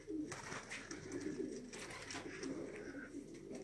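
Young racing pigeons coo softly and repeatedly at close range, their low, throaty calls rolling on without pause over faint background noise.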